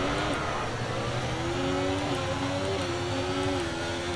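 Formula 1 racing car engine in F1 24 drives a continuous mid-pitched drone, with gear-change steps rising and falling through the clip, loud and steady without any talk.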